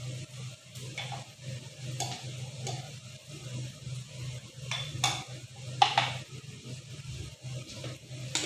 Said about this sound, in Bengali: পরিমাণ মতো আমি একটু ঘি দিয়ে দিলাম।